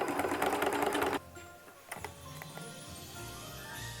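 A sewing machine stitches a long basting seam joining two fabric pieces, a loud fast whir for about a second that stops abruptly, followed by quieter clicks and handling noises.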